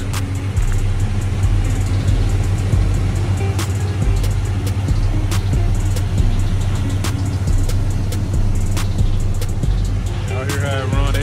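Idling engine of a 1986 Oldsmobile Cutlass 442 with its original motor, a steady low rumble heard up close, with someone talking over it.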